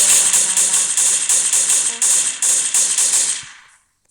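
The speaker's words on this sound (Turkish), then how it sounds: "Ya şu silah sıkmak sesi çok gıcık arkadaşlar" Rapid automatic gunfire crackles in Minecraft, loud bursts of repeated shots in quick rhythmic clusters, briefly interrupted, then cutting off sharply into silence.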